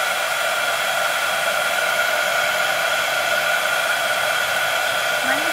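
A heat gun blows steadily for embossing powder on a small scrapbooking flower, a constant close-up hiss and whoosh of air with no pauses and no talk.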